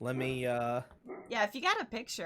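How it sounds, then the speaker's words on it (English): A dog gives a drawn-out, tonal whine or bark near the microphone, then people talk over faint background sounds. "sorry, that's my dog."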